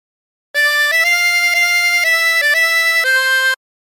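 Harmonica melody of Oh My Darling Clementine played without bends, a run of clean sustained reedy notes stepping between pitches for about three seconds, played alone with no voices.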